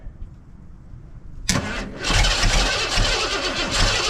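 A 1990 Ford F250 engine cranks briefly, then catches and starts, settling into a loud, rough rumbling idle close by.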